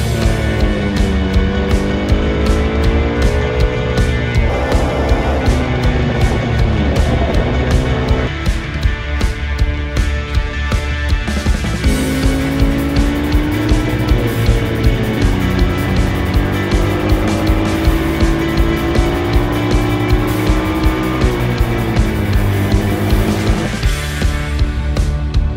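A 2022 Yamaha R7 World GP 60th Anniversary edition motorcycle engine runs loud and close, its pitch rising and falling through repeated revs, with no talking.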